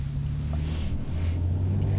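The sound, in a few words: cars driving by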